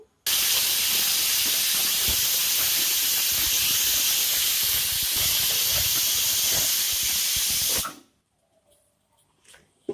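A pressure cooker whistle releases steam in a loud, continuous hiss for several seconds as Gujarati valor and brinjal curry cooks, then cuts off abruptly into near silence.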